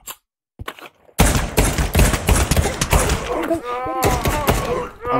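Rapid gunfire from an M1911 pistol and other weapons in the VR shooter Pavlov VR during a zombie round, loud, dense bursts of shots after a brief quiet start, with a voice talking over the shooting.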